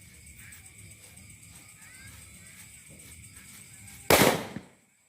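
After a few seconds of faint background noise, a single sharp bang from mini firecrackers bursts loudly, then fades quickly into quiet.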